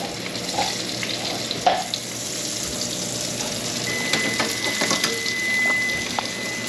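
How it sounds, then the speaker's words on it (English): Summer flounder fillets fry in butter and oil in a pan, giving a steady close sizzle and crackle with a few small pops and scrapes, and no talking. "I just had to add a little more butter and oil for the pan so I could fit this"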